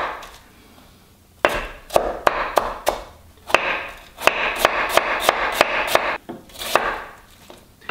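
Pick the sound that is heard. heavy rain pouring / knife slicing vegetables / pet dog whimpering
knife slicing vegetables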